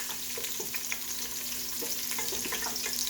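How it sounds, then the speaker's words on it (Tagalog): Garlic sautés in a hot pan with a steady, even sizzle and faint stirring scrapes throughout, heard close and alone with no talking. "Gisa lang natin to ng ating garlic"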